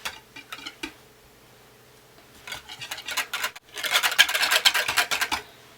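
Coffee grounds being blended into soap batter with a stick blender, a whirring, gritty buzz that starts in short bursts and then runs steadily louder toward the end, close up with no talk.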